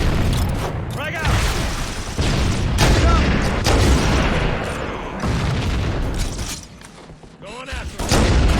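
A frag grenade goes off in Halo: Combat Evolved Anniversary, producing heavy booms and thuds amid game noise and gunfire, loud and close, while players talk over it.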